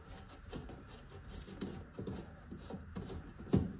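Plastic sink siphon trap being unscrewed by hand, a run of soft scraping and rubbing with light knocks and one sharper clack near the end, close and fairly quiet.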